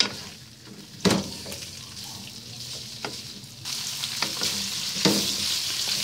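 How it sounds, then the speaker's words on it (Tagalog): Beef frying in annatto oil in a pan for beef kaldereta gives a loud, steady sizzle, broken by a few sharp clatters of stirring. "Medyo ipapry lang po natin yung ating beef."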